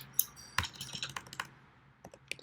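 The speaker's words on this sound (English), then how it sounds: "I'm gonna start typing English." Keys clacking on a computer keyboard in irregular bursts of quick taps with short pauses, close and fairly quiet, alone with no voices.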